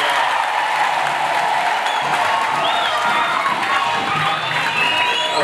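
Congregation applause after a choir song at a harvest church service, a thick, continuous roar of clapping mixed with cheering and excited voices, loud and sustained throughout.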